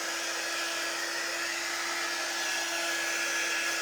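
A hair dryer blows steadily on a decoration, a loud continuous rushing whoosh with a faint motor whine and no voices.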